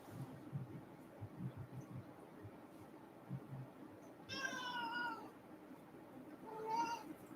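A cat meows twice at close range, each a short rising cry, over a quiet indoor room with faint background noise.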